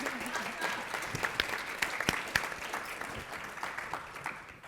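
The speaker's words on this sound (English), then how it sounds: "And with that, a round of applause, please." A panel audience gives a round of applause for a speaker at a conference session, a modest, fairly faint scatter of clapping with some sharper individual claps that thins out by the end.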